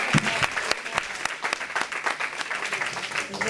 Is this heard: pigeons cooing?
no